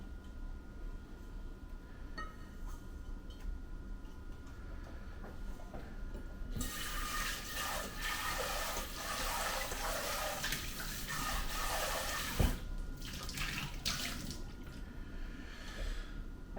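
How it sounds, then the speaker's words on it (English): Clam juice pours through a strainer into a bowl, a soft splashing flow that swells midway and carries on steadily to the end, with no talking. "we're just going to strain all the clam juice into the bowl."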